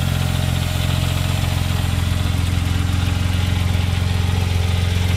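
A 2005 Porsche 911 Turbo S Cabriolet rated at 450 hp idles steadily, a smooth low rumble with a constant mechanical hum, heard close and alone without talk.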